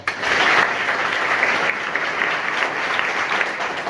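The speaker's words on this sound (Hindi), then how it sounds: "एक बार इनके लिए जोरदार ताली।" A crowd at a school event in Varanasi, India breaks into loud, continuous applause, many hands clapping together at a steady level.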